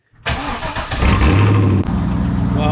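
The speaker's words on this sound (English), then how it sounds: "Here's a really cold start." A car engine cold-starts up close: a brief starter crank, then the engine catches with a loud roar and settles into a steady, rough idle.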